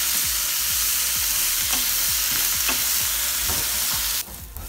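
Jackfruit sizzles and fries loudly in a pan, with a steady hiss and a regular stirring scrape throughout, before the sizzle drops away near the end; no voices are heard.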